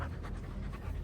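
A Samoyed dog pants quickly and close, short rapid breaths repeating without pause through a brief moment.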